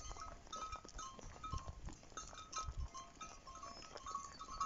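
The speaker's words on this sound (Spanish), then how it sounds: "el pastor ubique a su manada de chivos y vacas." Herd of goats and cows on a farm, heard as faint, distant bleats and shuffling livestock sounds with a few clinks over steady low background noise.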